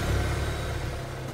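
A car engine in a dramatized Bengali detective audio story starts up and pulls away. Steady low rumble with rising revs, close and fairly loud, no voices.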